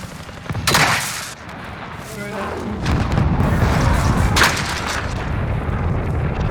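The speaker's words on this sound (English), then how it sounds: "Those bastards are shooting at me! Rocket away!" A firefight in Warzone, Operation Monarch: heavy booming blasts and bursts of gunfire with rocket launches, loud and close, mixed with game voice lines and constant battle noise.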